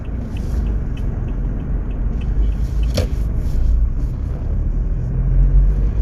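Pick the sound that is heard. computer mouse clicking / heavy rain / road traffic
road traffic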